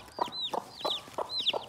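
A hen clucks in short repeated bursts beside farm-raised chicks, about four rhythmic clucks with rising chirpy squawks, close by and fairly soft.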